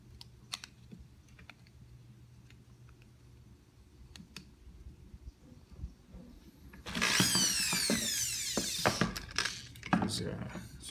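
Electric screwdriver driving small screws into the wrist joint of a robotic arm kit: after quiet handling clicks, a loud whirring burst runs for about two seconds, followed by further tool noise and clatter.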